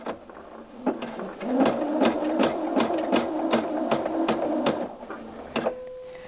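A sewing machine stitches fabric slowly, a close series of evenly spaced mechanical clacks with a soft motor hum beneath, pausing briefly near the end.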